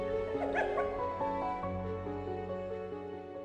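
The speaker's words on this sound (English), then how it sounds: "Alone, she hasn't got a chance against a pack of wild dogs." A pack of African wild dogs yipping and whimpering in the wild, with high excited calls rising and falling over a steady background of animal noise, fairly close and continuous.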